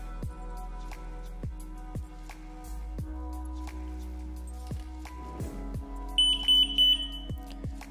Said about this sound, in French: le parachute démarre automatiquement. Vous entendez un bip sonore.